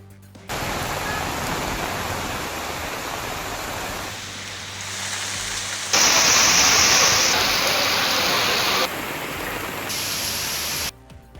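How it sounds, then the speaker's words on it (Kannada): Dense, steady roar of heavy rain during a storm in Hubballi, Karnataka, with a broad hiss that shifts in intensity in several abrupt sections, loud and continuous, no voices. "ರಾಜ್ಯದ ಹಲವು ಜಿಲ್ಲೆಗಳಲ್ಲಿ ಬಿರುಗಾಳಿ ಸಹಿತ ಧಾರಾಕಾರ ಮಳೆಯಾಗ್ತಿದೆ"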